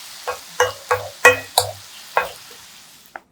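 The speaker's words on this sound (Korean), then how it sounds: "골고루 저어주고요." Sautéed aged pumpkin with added water stirred in a pan, six or seven distinct scraping strokes with light sizzling between them, close and clear, ending in a short sharp clink.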